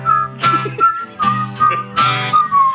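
A woman whistles a lilting tune in short melodic phrases, each burst separated by brief pauses, with a low steady accompaniment underneath, close and clear.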